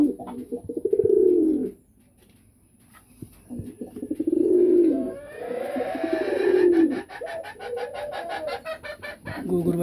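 Pigeons give repeated deep, throaty coos close by, the calls rising and falling in a run of bursts with short pauses, while other bird sounds and a few sharp clucks mix in.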